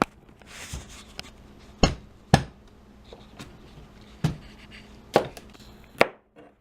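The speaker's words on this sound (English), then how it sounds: "Now cut this little seed portion off." A knife cuts the seed portion off a butternut squash, making about six sharp, separate thunks on a cutting board at irregular intervals, with quieter scraping between them.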